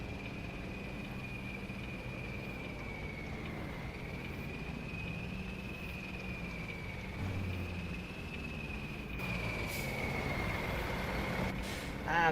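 A Kenworth W900 truck engine in a trucking video game drones steadily and loudly, with a sustained whine riding above it and a few short higher sounds near the end, no talk over it.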